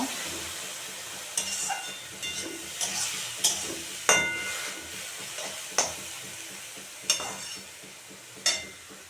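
Flattened-rice snack cooking in a pan just after a splash of water is added, with a steady close hiss and sizzle broken by repeated sharp scraping stirs.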